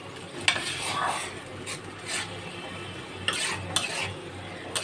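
Spice paste sautéed and stirred in a pan while cooking a taro leaf dish with hilsa fish head, heard as a close frying sizzle broken by several scraping, clinking strokes of the spatula, with no voices.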